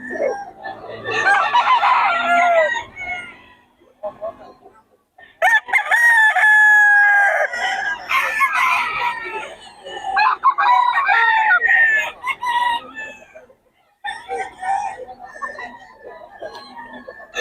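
Sweater Gilmore gamefowl roosters crow repeatedly at a busy predawn poultry market in Bocaue, loud drawn-out calls overlapping from several birds nearby, with occasional clucking and someone talking between crows.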